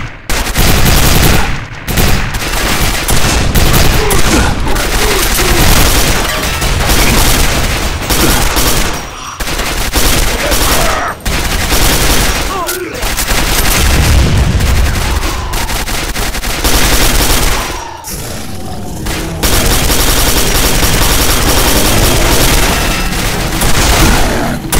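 Rapid, sustained turret gunfire and booming blasts fill a sci-fi hangar battle in Quake 4, loud and nearly continuous with only short pauses between bursts.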